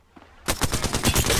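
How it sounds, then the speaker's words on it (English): Rapid automatic gunfire rattles in Apex Legends, starting abruptly after a near-silent moment and continuing as a loud, evenly spaced string of close shots. "Shooting. Bless me with sight. Taking fire."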